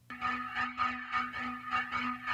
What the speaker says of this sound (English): we're jumping over to this tribal flute